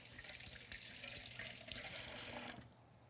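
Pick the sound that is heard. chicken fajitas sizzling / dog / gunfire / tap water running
tap water running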